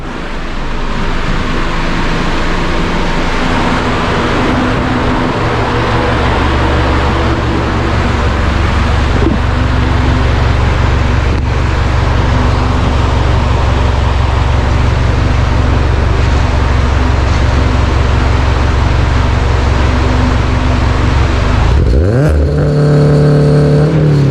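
Subaru BRZ second-generation with FA24 engine and JDL headers, recorded from behind the exhaust: a loud, steady low drone of revving held for about twenty seconds, then a sharp rising sweep as revs climb before cutting off.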